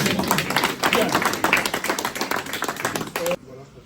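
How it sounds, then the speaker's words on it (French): Guests applauding at an engagement gathering in Blois, a brief burst of close, uneven hand claps with voices murmuring underneath, cutting off sharply near the end. "Donc, on peut applaudir."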